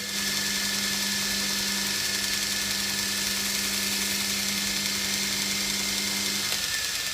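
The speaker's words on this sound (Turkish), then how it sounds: "bant kaydırma sistemi ise hemen gösterdiğim gibi gayet muntazam bir şekilde çalışıyor" A two-wheel belt sanding machine hums with a steady, even motor whir and grinding drone that runs continuously, then cuts off abruptly near the end.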